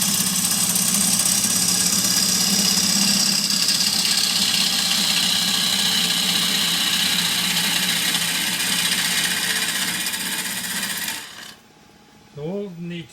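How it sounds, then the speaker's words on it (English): A spindle gouge roughs down an oak blank spinning on a woodturning lathe, a continuous loud rasping cut over the motor's hum for about eleven seconds before stopping, followed by brief talk. "And this will be roughed down with I think spindle gouge as usual."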